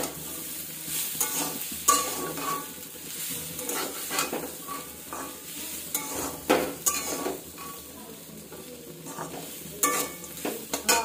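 Vegetables sizzle in a pan while a utensil scrapes and stirs in quick, irregular strokes, close by and moderately loud.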